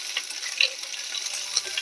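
Onions fry lightly in a pan over steady heat, cooked only until pinkish and still crunchy, giving a continuous soft, airy sizzle with small crackles and no voices.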